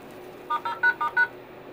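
Five short keypad dialing tones from an elevator's emergency phone, evenly spaced and clear over a low steady hum, with no talking.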